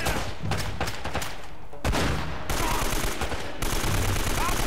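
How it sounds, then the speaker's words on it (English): Shotgun blasts in the game Uncharted: Drake's Fortune come as dense, loud bursts of gunfire within chaotic combat noise, with abrupt shifts in the din. "Fear the shotgun in this game."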